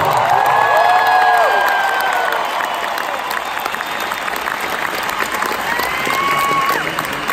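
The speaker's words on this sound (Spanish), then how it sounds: "Otro aplauso bien chingón para ustedes que nos han regalado un espectáculo increíble esta noche" A concert crowd at a show in Bogotá applauds and cheers loudly and continuously, with whistles and shouts rising above the sustained clapping.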